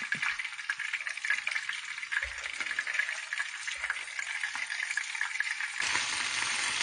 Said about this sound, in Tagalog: i-deep fry naman natin yan